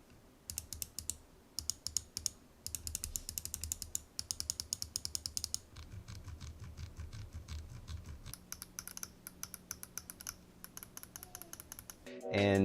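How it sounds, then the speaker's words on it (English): Rapid bursts of sharp, close button clicks from a Cooler Master MM710 53-gram gaming mouse, clattering in quick clusters with brief pauses between runs and a louder thump at the very end. "I don't really notice too much of a variance in between the left and the right click"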